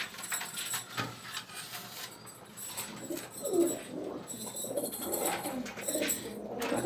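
Red muski pigeons coo in a home loft, repeated low, burbling calls at modest volume over a steady background murmur.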